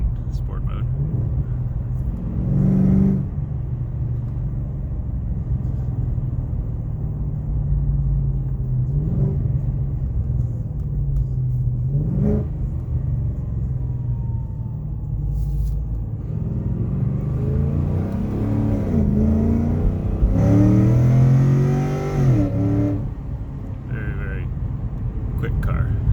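A 2017 Chevy SS sedan's engine in sport mode gives a steady low rumble that swells into revving bursts near the end, with someone talking over it throughout.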